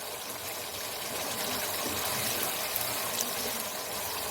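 Water poured into a pan of simmering curry with moong dal pakoras, a steady broadband rush and hiss filling the whole stretch at moderate level, with no talk over it.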